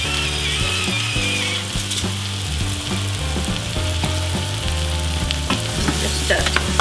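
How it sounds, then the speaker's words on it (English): Mushrooms and pepper fry in melted butter with a loud, continuous sizzle. Stirring clinks and scrapes sound in irregular bursts close by, and no one speaks. "Once the butter melted, just add in the mushroom and just going to cook it until it's softened."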